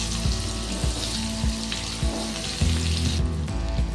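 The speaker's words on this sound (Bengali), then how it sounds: "শুকনো লঙ্কাটা ভাজা হয়ে গেলে এরপরেতে দিয়ে দেব পেঁয়াজ কুচি দিয়ে দিচ্ছি পেঁয়াজ কুচি" Chopped onion hitting hot oil already crackling with dried red chillies and cumin seeds, a steady close sizzle with scraping stirs and clinks of the spatula on the pan throughout.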